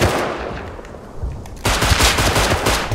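Rapid video-game gunfire in Super Animal Royale, a dense rattling burst that swells loud and close partway through and keeps going to the end, with no talking.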